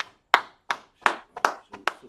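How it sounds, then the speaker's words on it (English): A few people clapping during an online religious class session, six sharp separate claps spaced irregularly over about two seconds, close and fairly loud with no talk. "Let's clap it up for everybody there."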